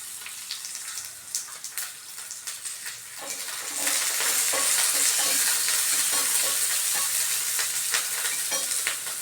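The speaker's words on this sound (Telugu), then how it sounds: "ప్యాన్ను మళ్ళీ వేడి చేసి పచ్చిమిరపకాయలు వేయిస్తున్నాను" Green chillies fry in a hot pan with a steady sizzle, crackling and popping, growing louder and denser partway through.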